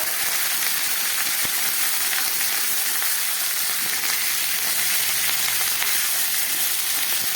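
Constant, dense sizzling of ginger paste and ground coriander frying in oil, loud and close, with faint scraping stirs now and then.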